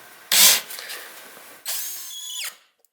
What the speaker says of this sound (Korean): 일단 18V 전동 드릴입니다. 전동 드라이버죠.